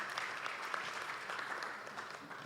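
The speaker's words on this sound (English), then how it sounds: "A round of applause for her, please." Conference audience gives a panelist a round of applause: dense, steady clapping from a crowd filling the space, moderately loud and unbroken throughout.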